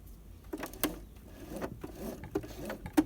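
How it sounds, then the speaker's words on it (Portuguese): A sewing machine stitching a short test seam, giving quiet, uneven mechanical clicks and soft thumps at close range. "Eu nunca costuro sem fazer um teste"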